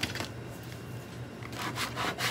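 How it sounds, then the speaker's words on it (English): A burnishing tool rubs firmly over transfer vinyl laid on a decal, making a continuous close scrubbing and rubbing sound with quicker strokes near the end. "I'm taking my burnishing tool, scrubbing this down."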